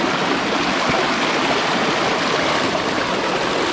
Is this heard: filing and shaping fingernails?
no